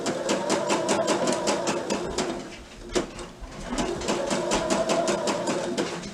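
A sewing machine stitching a curved hem on a summer top, running at a steady pace with rapid regular needle ticks and a brief slowdown in the middle, close and clear with no talk.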